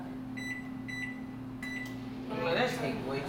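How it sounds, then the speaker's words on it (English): A microwave oven heating s'mores hums steadily with a low drone, with a few short beeps early on and some faint background sound near the end. "throwing them in the microwave"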